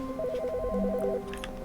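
A telephone rings in The Stanley Parable video game, a warbling electronic ring pulsing rapidly for about a second over a steady hum of game ambience, with no speech.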